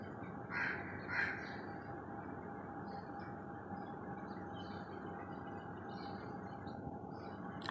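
Crows cawing twice, fairly close, over a steady low hum of distant traffic or rail noise at early morning, then a continuous murmur with no further calls.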